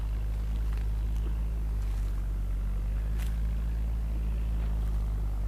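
A Massey Ferguson 165 tractor pulls a seven-shank subsoiler through soft field soil, its diesel engine droning as a loud, steady low rumble with wind noise over it and no talking.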